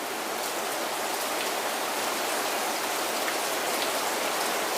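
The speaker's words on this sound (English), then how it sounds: "There's just been bands of rain come through." Heavy rain pours steadily in a dense, even hiss, loud and continuous with no pauses and no voices.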